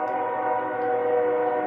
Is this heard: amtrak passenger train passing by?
yes